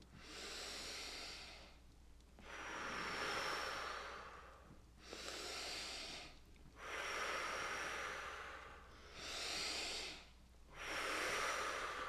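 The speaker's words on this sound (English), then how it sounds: "we'll take a smooth breath in and an easy breath out" Slow, deep breathing in and out through the nose, each long airy breath separated by a short pause, repeated about five times, quiet and close.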